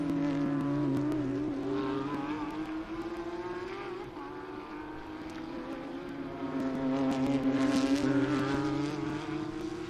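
A Lamborghini race car screams past at Sebring raceway, a sustained high engine whine rising and falling as it runs along the circuit with other cars, fairly distant.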